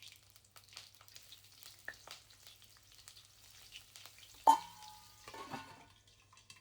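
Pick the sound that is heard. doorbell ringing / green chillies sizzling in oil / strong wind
green chillies sizzling in oil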